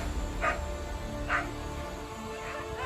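Several dogs bark while chasing a Komodo dragon, giving three distinct barks spaced about a second apart over a steady background rumble.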